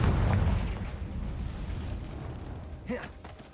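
A Confringo blasting spell explodes in the Hogwarts Legacy video game: a loud boom at the start fades into a rumbling decay, followed by a short, bright tonal burst near the end.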